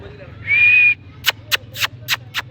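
A clear, sustained whistled tone from a parrot, followed by a series of short, sharp chirpy whistles in quick succession over a faint low hum.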